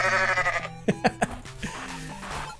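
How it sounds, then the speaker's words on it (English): A goat in the video game Goat Simulator bleats in a long, wavering cry, then gives several short clipped bleats in quick succession, close and clear, with no talk over it. "Still goat noises"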